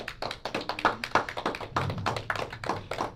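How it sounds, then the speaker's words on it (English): A congregation claps through a round of applause at the close of a Purim service: rhythmic, fairly loud hand claps in a steady beat, with no voices over them. "So give the Most High a round of applause."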